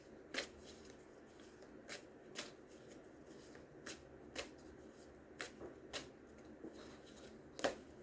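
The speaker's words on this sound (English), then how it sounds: "let's shuffle the cards" A deck of tarot cards is shuffled close by and quietly, with a string of soft, crisp riffling snaps at uneven intervals over a hushed room.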